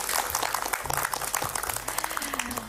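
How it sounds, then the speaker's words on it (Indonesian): A group of women applauds at a Ramadan promotional event, brisk clapping close by with a few voices and tonal background sounds mixed under it. "Boleh tepuk tangannya ibu-ibu?"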